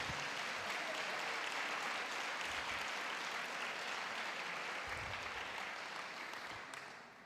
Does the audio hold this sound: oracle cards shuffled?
no